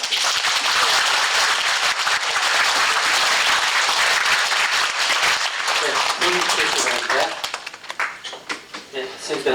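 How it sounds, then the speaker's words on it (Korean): An audience applauds a teacher after a spiritual lecture, a dense sustained round of clapping that thins into scattered claps near the end as a voice begins speaking. "선생님께 다시 한번 감사의 박수 부탁드립니다"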